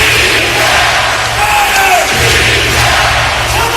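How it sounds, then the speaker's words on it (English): A packed basketball arena crowd at the 2011 Western Conference Finals roars loudly and continuously, the cheering near and steady throughout. "The crowd on its feet,"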